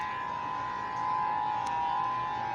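Civil defense siren test in Honolulu, Oahu, Hawaii, a steady sustained wail that holds one pitch loudly and continuously throughout, with faint background noise.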